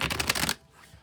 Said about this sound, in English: I'll shuffle till the deck feels ready, and then I will cut it and deal right off the top